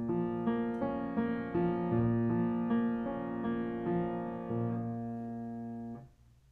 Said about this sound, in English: to begin the aria with an orchestra accompaniment that's in a minor key